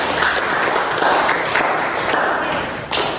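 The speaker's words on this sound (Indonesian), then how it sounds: "Tepuk tangan untuk kalian semua." A class of seventh-grade students claps for themselves in a classroom, a loud, continuous burst of applause with uneven, clustered hand claps throughout.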